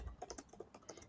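A quick run of computer keyboard clicks, about a dozen light close keystrokes in an irregular rhythm, quiet and alone.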